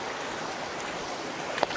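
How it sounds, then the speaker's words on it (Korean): Steady rushing of a flowing mountain valley stream, a constant broadband wash with a small splash near the end. "계곡 물소리가 시원하고 좋은데요."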